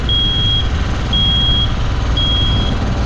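Easy Lift R180 compact 18 m spider lift at full extension sounding its alarm: three evenly spaced, high-pitched electronic beeps over a constant engine drone.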